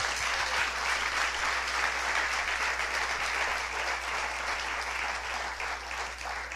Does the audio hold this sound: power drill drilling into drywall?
no